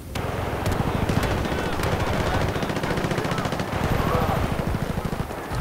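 Automatic gunfire in Battlefield: Bad Company 2 rattles in loud, rapid, continuous bursts with barely a break across several seconds.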